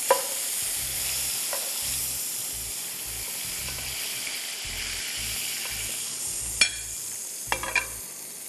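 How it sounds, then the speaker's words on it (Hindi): Chicken stirred in a hot pan sizzles steadily while a utensil scrapes and knocks against the metal in irregular strokes, with a couple of sharper clanks standing out. "मुझे अभी दूसरी चिकन को स्टीयर करना है"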